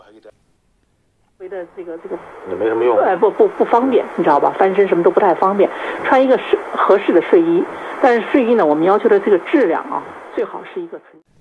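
Someone speaks steadily through the thin, band-limited sound of a Pagaria R-917 AM/FM/SW radio receiving a shortwave broadcast, after a moment of silence.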